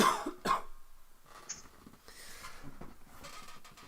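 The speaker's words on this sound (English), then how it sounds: "I just need to cough." A single commentator's cough during a darts final commentary, a sharp burst followed by a second cough and some throat clearing, close and fairly quiet with no speech.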